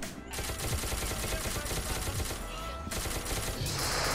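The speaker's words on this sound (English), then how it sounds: "It's a pistol." Rapid pistol gunfire in the video game SCP: Toy Soldiers, a dense run of close, loud shots packed together with game noise for about four seconds.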